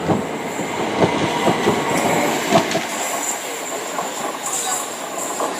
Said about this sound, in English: 377 is also departing with a service to London Victoria.